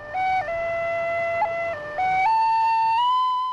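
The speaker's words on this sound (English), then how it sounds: "It has those typical things that penny whistles do, where you slide into the note" A penny whistle plays a clear, bright melody of steady held notes, sliding between pitches in a haunting line, close and solo with no talking.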